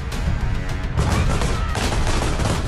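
Gunfire aimed at women protesting in Afghanistan under Taliban rule, a dense, loud volley of rapid shots crackling over a heavy rumble, continuous for the length of the moment with no talk.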